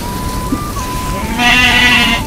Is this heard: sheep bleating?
yes